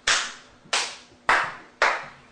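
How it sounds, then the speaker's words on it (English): Hand claps during a music workshop, four crisp, evenly spaced claps with short ringing decays in a quiet room, close and distinct with no talking between them. "Clap, clap."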